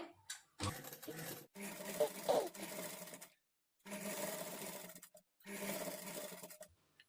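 A sewing machine stitches a princess-cut blouse, its motor whirring in several short runs separated by brief silent pauses.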